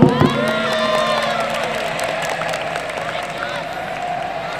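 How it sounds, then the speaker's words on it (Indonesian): A school-orientation audience breaks into cheering and applause, an opening burst of shouts and whoops settling into steady clapping and crowd noise with a voice heard briefly. "tepuk tangan untuk Mas Torik."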